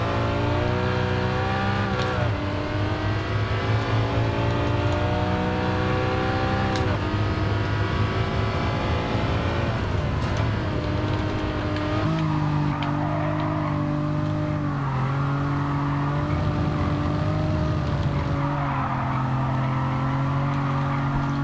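An Alfa Romeo 4C sports car drives under acceleration, its engine droning loud and steady from inside, with the pitch climbing through gears and dropping at each upshift.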